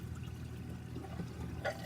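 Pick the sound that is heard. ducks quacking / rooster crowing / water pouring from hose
water pouring from hose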